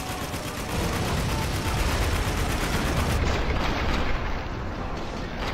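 Sustained turret gunfire in the shooter game Spec Ops: The Line, a dense, continuous roar of rapid shots at steady loudness for several seconds, with faint voices under it.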